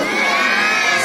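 A crowd of children at a New Year tree celebration near Kherson shouts and cheers loudly, a bright, sustained chorus of high voices filling the whole moment.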